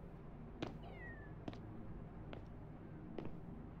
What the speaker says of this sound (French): J'ai entendu un chat.